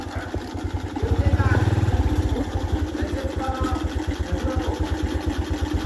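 A motorcycle engine runs close by in a steady rapid throb, swelling louder for a moment before settling back to an even idle-like chug, with people talking over it in Javanese at a community clean-up at a mosque.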